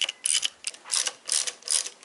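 An Allen key works on bolts of a Sachs Madass motorcycle suspension fork, giving quiet, close ratcheting clicks and metallic scrapes in quick irregular bursts, with no talk.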